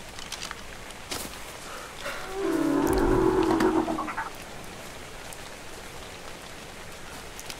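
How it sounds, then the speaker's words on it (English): Rain falls in the survival video game ARK Survival Evolved as a steady, soft hiss throughout, joined midway by a low, drawn-out creature-like call that swells and fades over a couple of seconds. "Oh, look, it's raining"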